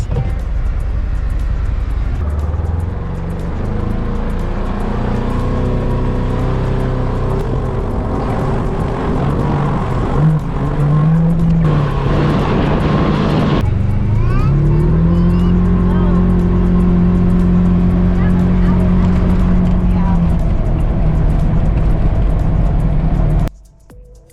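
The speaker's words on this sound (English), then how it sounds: "for roads like this, we couldn't ask for a better vehicle" An enclosed Ranger off-road utility vehicle driving on a rough road while out hunting for geodes: a steady, loud engine drone with rising revs and a constant rumble throughout.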